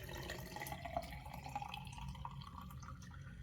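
Photographic stop bath poured from a developing tank back into its storage container, a steady close trickle of liquid with small drips and splashes continuing throughout.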